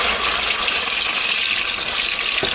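Ground spice paste frying in hot oil for a reshmi paneer dish, a steady loud hiss and sizzle that runs without pause, with no voices.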